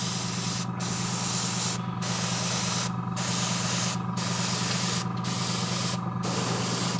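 An aerosol spray can coats the mud bases of miniatures in six short, close bursts of hiss separated by brief pauses, each lasting around a second over a low steady background hum.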